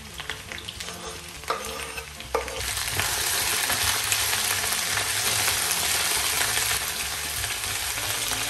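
Onion strips sizzle and fry in a pan, a loud continuous crackle that swells after an initial stir, with occasional scrapes as the pieces are moved around.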